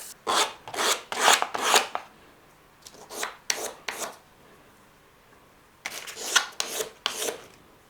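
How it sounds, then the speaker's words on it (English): A guitar nut is rubbed across sandpaper during a guitar build, making rhythmic rasping strokes in three quick clusters with short pauses between, close and moderately loud, no talk. "We're going to work through some sandpapers and make this look a little bit nicer."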